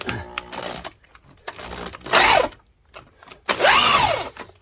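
A heavy-duty half-inch electric drill whirs in two loud bursts, spinning up and winding down, with quieter handling noises and gaps between, during F-150 rocker panel and cab corner removal.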